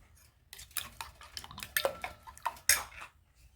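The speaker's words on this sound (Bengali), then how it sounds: "এখন ডিমটাকে আমি ফেটে নিচ্ছি। ডিমটাকে ভালোভাবে ফেটে নিতে হবে।" Eggs beaten in a bowl for a stovetop cake made with two eggs, giving irregular clinking, tapping strokes of a utensil against the bowl, close and moderately loud, with no talking.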